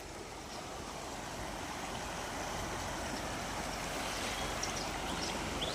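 Steady, broadband rush of Narmada canal water, loud and continuous throughout, like a strong current pouring through a channel.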